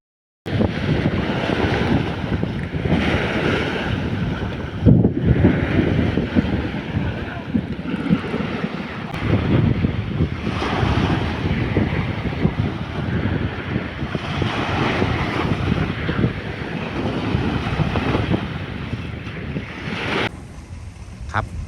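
Sea waves wash steadily onto Bang Saen beach under strong gusting wind buffeting the microphone, a continuous loud roar of surf and wind with faint voices now and then.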